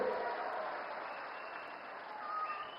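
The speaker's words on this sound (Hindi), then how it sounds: "ताली बजाओ भाई अनुराग के लिए।" Crowd at an Indian election rally applauding for candidate Anurag Thakur, a dense, fairly distant wash of clapping that swells again near the end, with faint voices mixed in.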